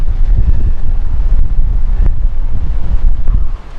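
Strong gust of wind from a dust storm sweeping across a valley near Boise, Idaho, heard as loud, steady low rumbling buffeting against the microphone, with no talk.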